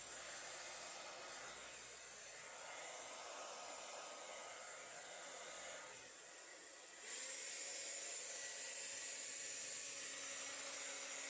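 A hair dryer blows thinned fluid art acrylic paint with no diffuser attached, a steady close whooshing hiss that shifts in tone partway through and then grows louder and brighter.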